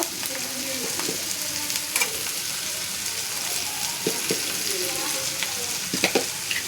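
A spoon stirs and sautés food in a hot pan, steady sizzling broken by scraping strokes and light clinks, close and continuous with no talking.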